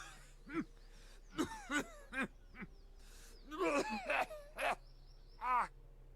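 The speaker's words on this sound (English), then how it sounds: "all that emerges is a series of violent coughs" A string of harsh, rasping coughs and throaty groans from a character in the video game Pillars of Eternity, in short bursts, fairly close, with brief pauses between them and a low steady hum underneath.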